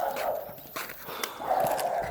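A lively dog out on a walk gives a few short yelps and whimpers among scuffing steps, fairly close, in brief bursts separated by quieter moments.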